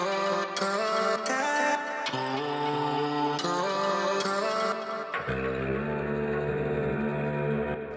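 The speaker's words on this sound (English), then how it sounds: "So that's the result of this vocal chop over here." A pitched vocal chop plays from a MIDI-mapped sampler in Logic Pro X, with bright, stacked harmonic notes that shift in short steps and then settle into a lower sustained chord, loud and continuous with no talking.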